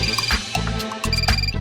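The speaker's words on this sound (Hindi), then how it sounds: "फोन बज रहा है," A phone ringing on the set of a Hindi TV comedy series, with a repeating electronic ring tone pattern playing loudly over steady low background music.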